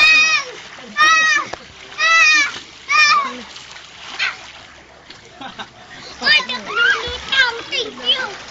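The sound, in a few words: water splashing, children swimming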